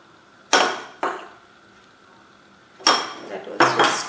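Mushrooms are being mixed with corn flour, garam masala and spices in a bowl, heard as a few sharp clinks and scrapes of utensil against the bowl separated by quiet pauses.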